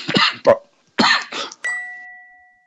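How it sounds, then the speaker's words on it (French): A few short, harsh coughs in quick succession, close and fairly loud, followed by a brief ringing tone that fades out. "Pardon, messieurs, pour la toux."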